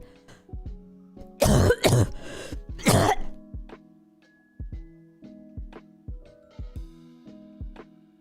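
A woman coughs and clears her throat hard into a close microphone, two loud bursts then another, followed by a series of soft rhythmic knocks.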